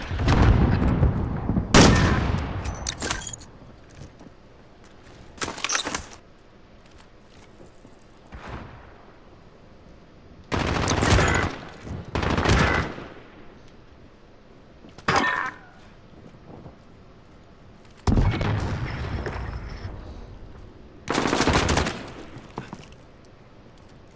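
Shotgun blasts and gunfire from Call of Duty Modern Warfare ring out in loud, sharp separate bursts spread across the stretch, with quieter gaps between volleys.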